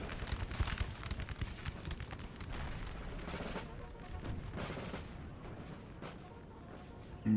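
Musket volleys and artillery fire in a Napoleonic Total War battle roll on continuously, dense overlapping booms and crackling gunfire heard at a distance, with no pause throughout.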